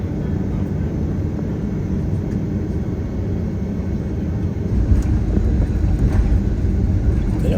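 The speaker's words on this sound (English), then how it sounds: "Here comes the takeoff." A jet engine roars steadily, its rumble building louder partway through as the aircraft powers up for takeoff.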